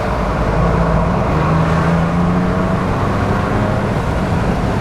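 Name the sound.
Corsa Turndown catback exhaust on 2021 Ford Bronco revving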